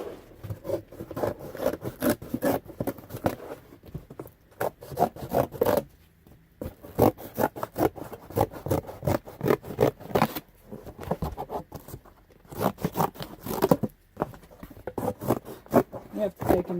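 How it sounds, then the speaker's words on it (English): Close-up scissors cutting the flaps off a cardboard box, with crunchy snips in quick bursts separated by short pauses. "Cut the flaps off."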